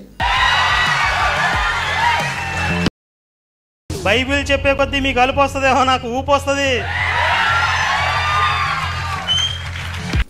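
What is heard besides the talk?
crowd of followers clapping and cheering in a played recording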